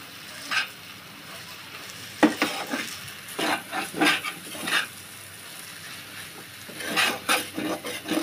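Spicy Maggi noodles with masala are stirred in a pan, giving scattered scraping and clinking strokes over a soft sizzle, with irregular bursts separated by quieter gaps.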